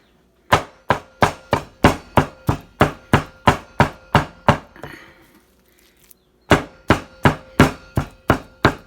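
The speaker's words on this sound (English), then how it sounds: "And this creates your chopped hamburger meat." A knife chops through meat on a board in rapid, evenly spaced thwacks, a long run of strikes, a short pause, then another quick burst, making homemade chorizo without a grinder.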